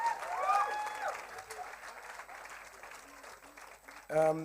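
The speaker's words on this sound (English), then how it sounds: "Round of applause for this venue." A theatre awards crowd claps and cheers steadily, with a voice speaking over the applause at the start and end.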